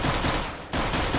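Rapid gunfire in the video game Minecraft during a prison-escape map: a dense, loud burst of repeated shots with a short gap midway, then firing resumes.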